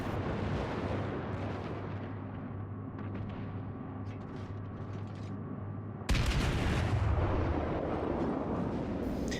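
Battleship guns firing in World of Warships during a naval battle with a US Colorado-class battleship, a low rumbling background broken by a sudden heavy boom that leaves a loud, rolling roar lingering to the end.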